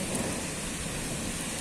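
Rain falls steadily during a thunderstorm, a dense continuous hiss over a low rumble, close and even, with no voices.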